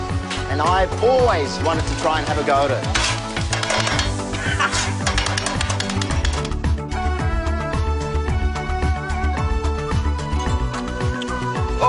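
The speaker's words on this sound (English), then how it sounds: "You hear that sound? That's the sound of kotoroti," Kotthu roti being chopped and fried as Sri Lankan street food at night, with a continuous clatter of metal blades on a hot griddle and sizzling beneath someone talking.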